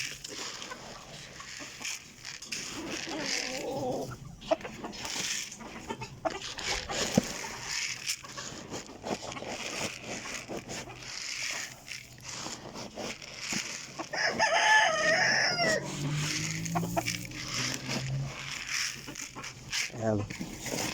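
Backyard breeder chickens cluck softly while a rooster crows once around the middle, all beneath someone talking steadily throughout.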